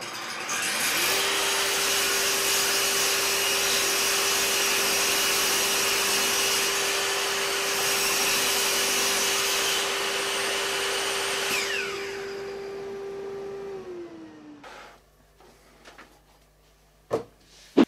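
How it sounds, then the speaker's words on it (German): A power saw cuts through a stack of scrap plywood pieces for a shoe rack, holding a loud, steady whine for about thirteen seconds before winding down into a few clunks and knocks. "Und hier können wir nämlich das ganze Paket nehmen und einmal am Ende durch die Säge jagen."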